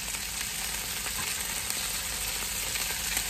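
Meat frying in a pan gives off a steady, dense sizzle with crackling pops throughout, close and continuous, with no voices.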